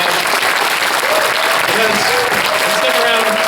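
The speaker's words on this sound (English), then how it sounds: "give them a big round of applause" A fan convention crowd claps steadily in a large hall for the cast, dense sustained applause throughout with some voices and cheers mixed in.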